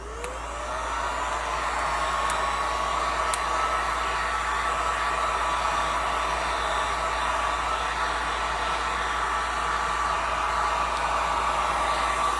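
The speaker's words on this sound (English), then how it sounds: "So let's heat this up." A heat gun blowing hot air, a steady loud whooshing roar with a high whine that ramps up at the start and then holds constant, close to the listener, no talking.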